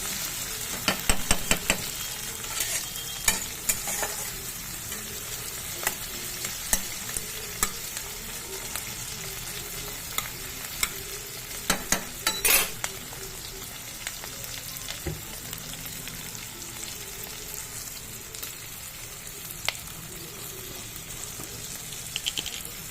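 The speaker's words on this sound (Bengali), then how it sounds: "এখানে ক্যাপসিকাম আর পেঁয়াজ একটু ভাজা ভাজা মতো হোক" Continuous loud sizzling of capsicum and onion frying in a pan, with frequent scraping and clattering as they are stirred throughout.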